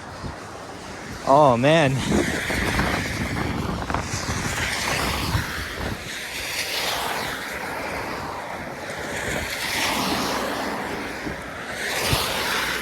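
Wind roars and buffets across an open street in York, Toronto, the day after major snowstorms, stirring blowing snow. The gusting rush is continuous and close, with one brief spoken exclamation near the start.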